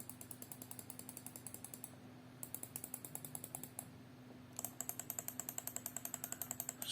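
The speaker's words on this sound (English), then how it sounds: "This is how the click sounds compared to Dell." A Microsoft Mobile 1850 wireless mouse button is clicked rapidly and evenly, close up, with crisp clicks in quick bursts over a faint background hum.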